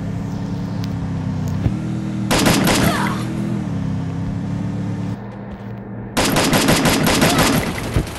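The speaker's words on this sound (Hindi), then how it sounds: "गाइस देखो फायरिंग हो चुकी है।" Machine gun fire in the video game Free Fire comes in two loud, rapid bursts of closely spaced shots, separated by a steady low engine-like hum.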